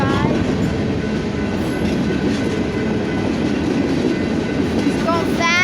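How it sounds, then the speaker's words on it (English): BNSF fast freight train with locomotives 7958 and 6069 heading to Avondale yard, a loud, steady roar of wheels and rail clatter passing close, with a faint squeal near the end. "This train is long"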